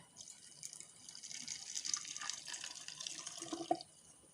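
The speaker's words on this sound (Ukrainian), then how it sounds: "Відразу гарячим заливаємо в банки." Hot pickling marinade of dissolved salt, sugar and vinegar poured into jars of cucumbers, a steady close pouring and gushing of liquid with a brief splash near the end, no talk.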